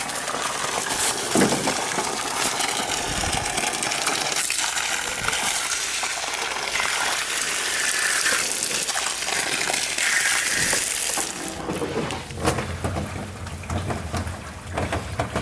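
Water gushing from a homestead supply valve, a loud, broad rushing and splashing flow that continues throughout with shifting intensity and no talk.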